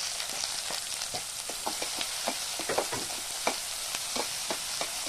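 Onion fries with garlic in oil in a kadai for veg momos, giving a steady, close sizzle with soft scraping taps of stirring throughout.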